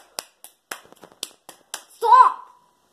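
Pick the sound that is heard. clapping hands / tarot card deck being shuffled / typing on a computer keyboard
clapping hands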